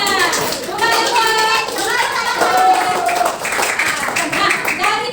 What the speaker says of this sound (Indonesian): Mari kita tepuk tangan semua.